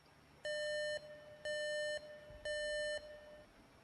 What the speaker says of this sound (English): but there are 3 long beeps.